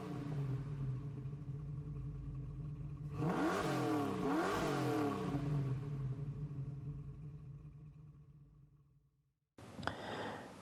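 A big 1971 Ford Mustang Mach 1 V8 engine, almost 6 litres, rumbles and revs up sharply, climbing and falling twice, then idles down and fades before a brief clattering burst at the end; video game audio.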